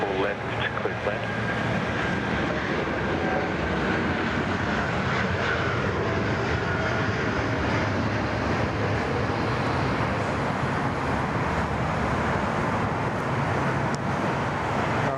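China Southern Boeing 787 taking off from Sydney Airport on a departure to Guangzhou, a loud sustained jet engine roar that stays steady throughout, with a commentator talking over it.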